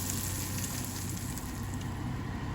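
Meat browns in a frying pan being shaken on a stove, a quiet, continuous crackling sizzle with a broad hiss and no talk.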